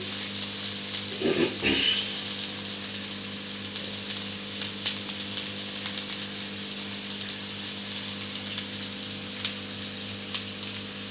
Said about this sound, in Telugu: ఇప్పుడు టమాటా ప్యూరీని యాడ్ చేద్దామండి దీంట్లో